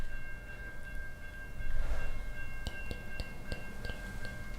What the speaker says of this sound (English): Yep, it's a train.